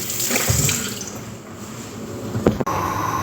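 Tap water runs steadily into a sink to soak eggplant, a close, continuous splashing pour with a few brief knocks near the end and no voices.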